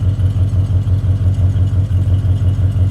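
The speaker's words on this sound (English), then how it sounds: "You can hear how nicely this engine runs," Chevy II car engine idling smoothly and steadily up close, a continuous low rhythmic rumble with a light pulsing beat throughout, no talk.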